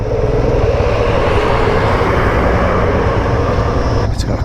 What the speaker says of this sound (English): This little tuk-tuk that's making its way up.